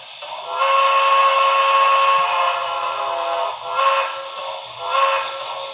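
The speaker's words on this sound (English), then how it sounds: "That does sound like the T1's whistle." A loud steam locomotive whistle, a Pennsylvania T1 chime, blows a long sustained chord, then swells twice more in shorter blasts, close and clear.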